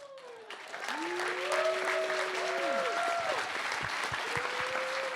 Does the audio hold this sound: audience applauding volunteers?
yes